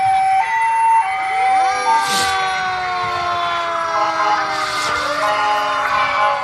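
Roane County Rescue Squad emergency vehicle in a Christmas parade, its siren wailing loud and close with rising and falling tones, joined by short air-horn blasts over crowd noise.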